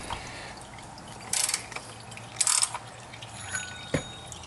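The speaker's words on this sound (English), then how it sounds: "Take your oil filter socket, place it onto the oil filter." A ratchet with an oil filter socket loosening the oil filter on a Honda Civic: two short bursts of rapid ratchet clicking, close and fairly loud, a few metallic knocks, with oil dripping faintly in a quiet garage.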